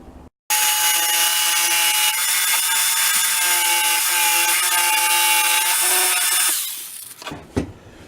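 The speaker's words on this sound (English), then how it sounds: "So we'll cut those out with the old jigsaw." A jigsaw cuts through the wood of an old coffee table, a loud, steady buzzing whine that starts abruptly, runs for several seconds, then winds down, followed by a couple of knocks.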